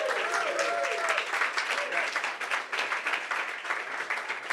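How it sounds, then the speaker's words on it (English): Applause breaks out from the audience at a Bitcoin hackathon finalist presentation, a continuous burst of clapping from a sizable crowd lasting several seconds, with a voice and a whistle briefly audible near the start. "Let's get another round of applause."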